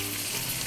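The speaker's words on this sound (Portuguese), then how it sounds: "Enquanto eu vou deixar ele fritando" Ingredients for a cassoulet frying in a pan, a steady, dense sizzle close by with no talk over it.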